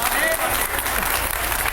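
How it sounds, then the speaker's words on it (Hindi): Audience at a Hindi religious talk by Aniruddhacharya claps in a brief, dense burst of applause, with a voice audible over the clapping. "इस बात पे तालियां होंगी क्या?"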